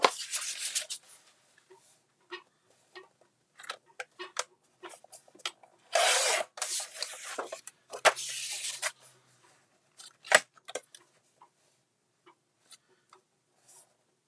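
Cardstock being cut into 2.5 by 12 inch pieces for Christmas cards: scattered close scrapes, slides and clicks of paper and a trimmer, with a few longer rasping swipes between quiet gaps.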